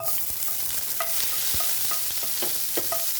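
Garlic sautéing in a hot pan, a steady close sizzle broken by repeated scraping stirs and light taps of the utensil against the pan.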